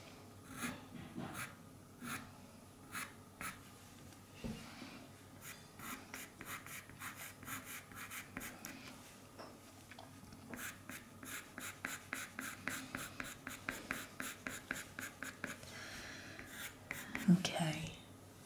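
Pastel pencil drawn with firm pressure across paper for an otter drawing, producing repeated soft scratchy strokes that come in bursts, quicker and denser toward the end, while the pencil is turned between marks; close and fairly quiet.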